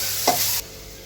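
Chili powder hits hot oil with fried onion and curry leaves for goat intestine curry, giving a loud bright sizzle and a quick stir scrape that cuts off abruptly to a quieter hiss.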